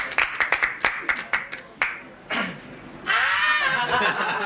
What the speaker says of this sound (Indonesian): Oh ternyata tepuk tangan ini ya.